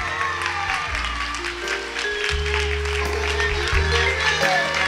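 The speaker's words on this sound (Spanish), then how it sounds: "¡Un fuerte aplauso!" Audience applause at an anniversary gala for a foundation, sustained clapping with a voice and music over it.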